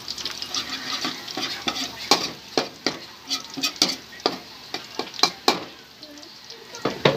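Garlic sautéing in a pan for a crab dish, a steady soft sizzle broken by frequent sharp scraping and stirring clicks, close and uneven in rhythm, with no voices.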